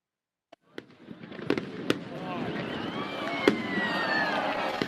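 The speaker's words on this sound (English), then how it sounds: "people are lighting up the sky with fireworks" Diwali fireworks going off in a rapid series of sharp bangs and pops, followed by a dense, steady crackling that fills the air and grows louder after the first few bursts.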